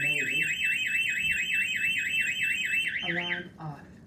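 A SimpliSafe home alarm system sounds during a test at a family home, with a loud, rapidly warbling electronic siren that runs for about three and a half seconds and then cuts off, followed by a brief voice.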